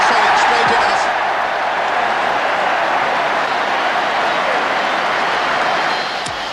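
Rugby crowd at a 1978 Ireland versus New Zealand All Blacks test applauding a successful penalty kick that levels the score, a loud sustained roar and clapping that slowly fades, under a commentator's voice.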